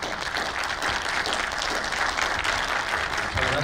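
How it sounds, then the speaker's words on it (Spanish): An audience gives steady, full applause to welcome a law professor to the lectern at a university lecture, with continuous clapping from many hands and no talk over it. "Recibamos con un fuerte aplauso,"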